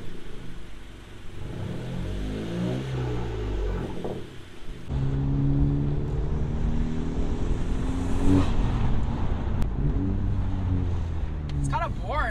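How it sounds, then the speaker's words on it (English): A 10th-generation Honda Civic hatchback Sport drives around, with a steady engine drone that rises and falls through gear changes and ends with a brief whoosh and clicks from inside the cabin. "I'm gonna drive the car around for you guys so you can kind of see how boring everything is now."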